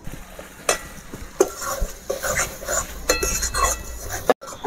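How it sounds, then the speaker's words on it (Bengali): Potatoes go into a frying spice paste for a chicken and potato curry, with steady sizzling and a utensil stirring and clinking against the pan in short bursts, close up. "মশলার মধ্যে আমি আলুগুলো দিয়ে দিলাম।"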